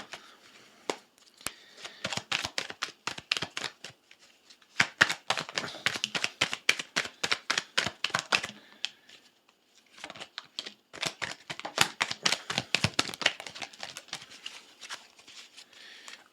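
Tarot cards are riffled and shuffled close up in repeated bursts of quick papery flicks and taps, pausing briefly between rounds, with no talk over them.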